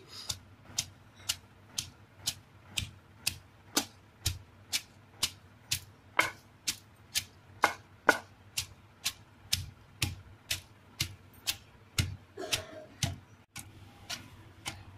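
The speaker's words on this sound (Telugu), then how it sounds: "నెక్స్ట్ పచ్చిమిర్చి వేసుకొని దంచుకోవాలి." Green chillies pounded in a mortar for a steamed jowar (sorghum) dish, a steady series of sharp, evenly spaced thuds, about two per second, close and clear with no talking.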